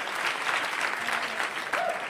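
A stand-up comedy audience claps steadily, a dense wash of applause from many hands that keeps going without a break.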